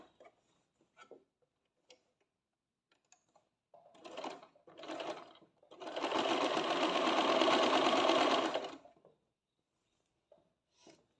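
A sewing machine stitches the side seam of a churidar. Two brief whirring bursts are followed by a steady run of about three seconds, with faint ticks around them and no talking.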